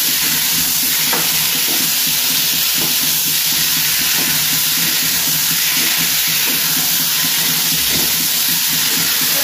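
Potato and egg stirred in a hot pan before water goes in, giving a loud, constant hiss and sizzle with faint scraping throughout.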